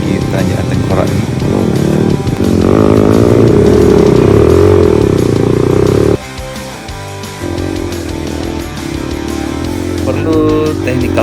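A trail motorbike engine revs hard and steadily while climbing a steep, rocky hill on a hilly route in Aceh Besar, the drone loud and close, dipping and stuttering briefly partway through before picking up again, with a voice speaking over it.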